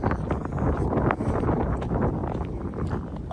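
Steady wind buffeting the microphone, a loud low rumble with gusty swells that continues throughout, no voices.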